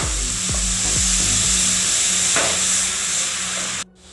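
Vinegar poured into chili masala frying in a pan for Kerala fish pickle sets off a loud, steady sizzle and hiss with a few soft stirring knocks, cutting off abruptly at the end.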